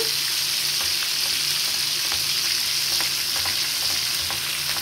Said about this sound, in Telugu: ఇలా కొంచెం ఆయిల్ ఇలా పైకి వేసుకుంటూ వేయించుకోండి